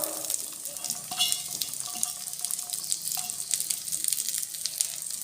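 Sweet corn kernels hitting hot ghee in a pan over medium gas, giving a steady wet crackle and hiss with bright sputtering pops, close and continuous, without any voice over it.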